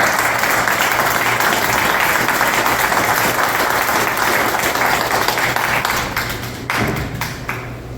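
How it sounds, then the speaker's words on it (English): An audience at a POW/MIA Remembrance Day ceremony in Sullivan County claps in a loud, continuous round of applause honouring veterans, which thins out and quietens over the last second or two. "Please give a round of applause to these men of the greatest generation."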